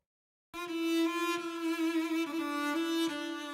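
A sustained bowed cello note with a strong, buzzy low-mid resonance peaking around 200 Hz, played alone with slight bow changes and swells.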